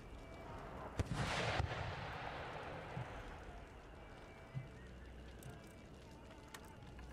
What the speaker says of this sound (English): Switch my howitzer to start shooting at that Bajir infantry.